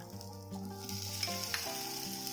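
Mixed vegetables and tomato sizzle steadily in a frying pan for minestrone, a close, even sauté hiss with faint stirring scrapes and no voices.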